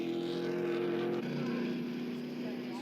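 A Trans Am Series race car roars past at the Symmons Plains circuit, its loud, steady engine drone dropping in pitch midway as it goes by, with a commentator talking over it.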